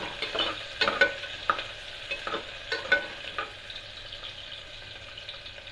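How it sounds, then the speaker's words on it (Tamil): Chopped onions sizzle steadily in hot oil in a pan while being stirred for a mutton curry, with irregular scraping and clinking strokes over a continuous close frying hiss. "நெக்ஸ்ட் வெங்காயம் ஆட் பண்ணிக்கிறேன். வெங்காயம் லைட்டாக பொன்னிறமாக வரணும். அது வரைக்கும் வறுத்து எடுத்துக்கலாம்."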